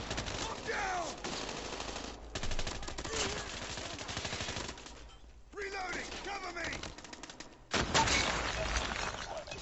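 Rapid machine-gun fire in a video game, bursts of dense clicking shots repeating loudly over about ten seconds, with brief pauses between volleys and a voice talking underneath.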